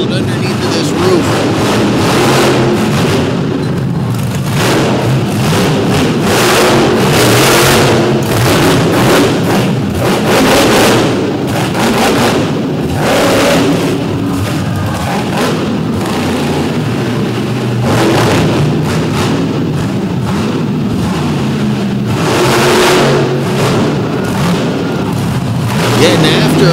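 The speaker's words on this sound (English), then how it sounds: "Still laying into that throttle, and this machine is so loud underneath of this roof." A Ford demolition derby car from Michigan roars under a roof at an all-star destruction event, its engine held at full throttle in a loud, continuous, booming drone with thuds and reverberation throughout.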